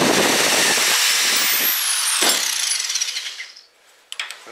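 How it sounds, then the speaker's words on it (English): A full-speed power drill spins a swaging tool inside copper tubing, a loud high-pitched whirring grind close by that fades out, followed by a couple of sharp metallic clicks. "So you want a full speed drill, let it get hot, and then push it in and out and you're done."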